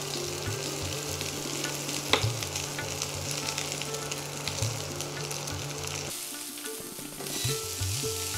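Cabbage, potato and pumpkin fry in a pan for a Bengali labra, giving a steady, close sizzle with occasional stirring scrapes. There is a brief dip in the sound near the end, and no one speaks.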